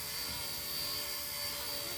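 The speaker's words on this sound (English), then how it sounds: "It's just a very basic 6-axis gyro helicopter." A tiny K170 Black Hawk UH-60L scale RC helicopter with a basic 6-axis gyro hovers, its rotor and motor giving a steady, high-pitched whirring hum that stays even and moderately quiet throughout.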